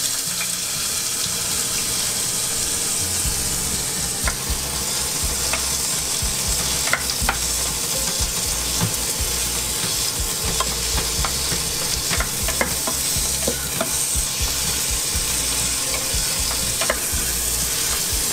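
Tomato, onion and garlic mixture poured into smoking-hot oil, sizzling loudly and continuously, with frequent stirring scrapes and a watery, bubbling hiss under it all.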